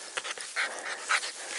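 A happy puppy pants close by in short, quick breathy bursts, with a faint whimper mixed in and no voices.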